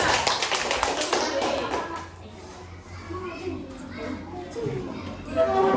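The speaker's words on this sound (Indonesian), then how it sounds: "Kita kasih apresiasi, tepuk tangan kelompok 2" Schoolchildren in a classroom clap in quick, uneven applause for a classmates' group, loud at first and then trailing off as children's chatter and a teacher's voice take over.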